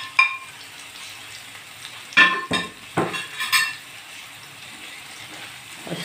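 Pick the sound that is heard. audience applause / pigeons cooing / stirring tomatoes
stirring tomatoes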